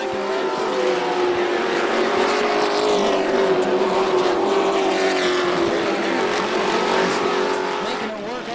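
Pro trucks race on a Florida dirt track, engines roaring loud and close in a sustained drone with a steady pitch, joined by a pack of other trucks.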